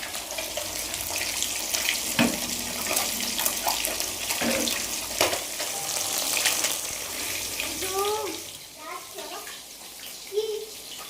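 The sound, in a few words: egg frying in a pan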